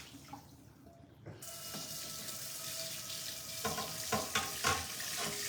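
A kitchen tap runs into a cooking pot, filling it with water to soak and clean it. After a quiet start the water gushes steadily, and a few light clanks of metal ring out near the end.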